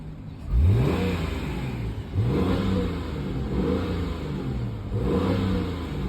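A 2015 Subaru Outback's 3.6-litre naturally aspirated flat-six engine revs up three times from idle, each blip a rising throaty growl that settles back to a steady, close, smooth rumble, with no talking.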